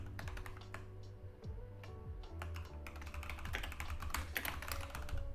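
Computer keyboard typing while writing compiler code, a steady run of quick clicking keystrokes at close range, with no talking.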